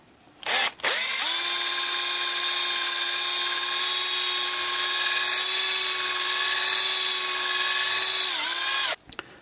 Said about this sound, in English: so we'll have to drill that out as well